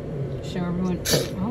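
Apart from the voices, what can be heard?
child sneezing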